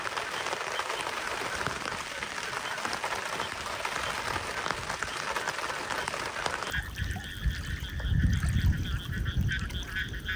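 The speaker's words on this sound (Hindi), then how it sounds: "बाहर फिर से जोरदार बारिश स्टार्ट हो गई थी" Heavy monsoon rain pours outside a tent at a lakeside camp, a dense steady hiss throughout, with geese honking nearby and the sound growing more muffled and lower partway through.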